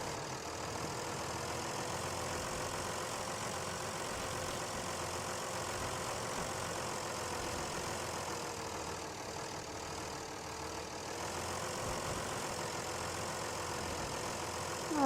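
Truck engine in SnowRunner on PS4, a steady droning rumble holding at a constant level throughout, without clear revving peaks, continuous and fairly full, no talking.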